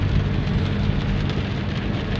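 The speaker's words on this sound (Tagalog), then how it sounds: "Malakas pa rin yung ulan." Heavy rain pours steadily in a dense, loud wash of drops drumming on surfaces late at night, with no talk over it.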